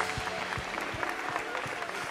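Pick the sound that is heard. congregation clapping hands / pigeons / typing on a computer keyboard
congregation clapping hands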